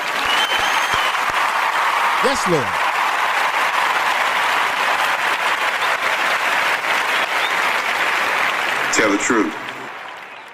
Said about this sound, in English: let me give her a clap here